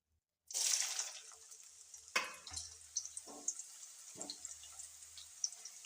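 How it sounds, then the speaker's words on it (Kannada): Bakery-style potato chips dropped into hot oil: a sudden loud sizzling burst that settles into steady crackling and bubbling, punctuated by sharp clinks and stirring scrapes, close and clear with no talking. "ಈಗ ಎಣ್ಣೆ ಕಾದತ್ರಿ ಈಗ ಚೀಪ್ಸ್ ಹಾಕ್ಯಂತ ನೋಡ್ರಿ"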